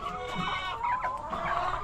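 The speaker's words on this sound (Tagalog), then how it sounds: "yung mga alaga kong manok" Several chickens cluck and murmur close by, overlapping soft calls against a faint background hum.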